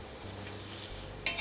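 Paratha frying in sesame oil on a hot pan: a steady, quiet sizzle runs throughout, with a brief brighter crackle near the end and no talk.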